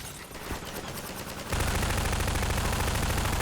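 Gunfire in the video game Half-Life 2, heard as a dense, continuous rattle of shots that grows louder and fuller partway through, with no talking.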